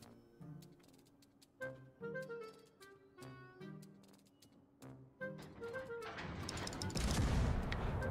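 In a World of Warships naval battle, the Omaha cruiser's guns fire in a series of sharp, spaced reports, followed by a dense, loud rumble of sustained gunfire and impacts over the last couple of seconds.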